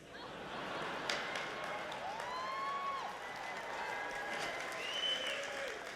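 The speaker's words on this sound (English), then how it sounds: "You guys are cheering the stuff I didn't expect you to cheer." At an awards show, a distant crowd applauds and cheers in a steady, fairly faint wash of clapping, with a few whistles and shouts rising above it.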